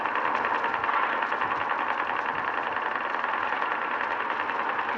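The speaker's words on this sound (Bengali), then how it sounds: "ইঞ্জিনের সাউন্ড শুনতেছো" A truck engine idling in the Truckers of Europe driving game, a steady, even mechanical drone that holds without change and plays alone with no voices.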